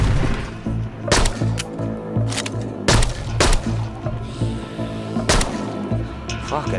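Several loud gunshots ring out in a video game, sharp separate cracks spaced a second or so apart over a steady low background drone.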